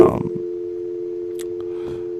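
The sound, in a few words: telephone line tone on a dropped call-in phone call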